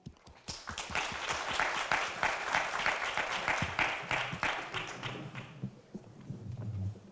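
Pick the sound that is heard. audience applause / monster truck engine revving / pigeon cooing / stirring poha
audience applause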